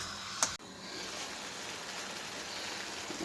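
Half a cup of water poured into a pan of frying potatoes and peas for aloo matar, a sharp splash followed by a steady, loud hiss and sizzle filling the rest of the moment.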